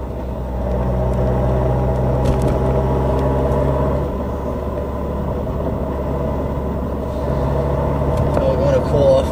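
A Subaru GR WRX STI with a Milltek catback exhaust drives with the windows down, its low exhaust drone and road rumble steady throughout, while someone talks over it.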